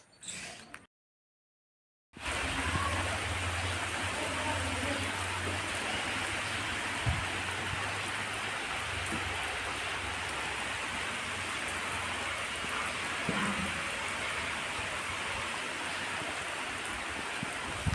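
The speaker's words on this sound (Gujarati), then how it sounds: "જોઈ લ્યો મિત્રો, અટાણ પાછું વરસાદનું રેડું આવ્યું જોવું તમે." Steady rain shower pours over a village, a dense, even hiss that starts after a brief silent gap and keeps going at a constant level with no voices.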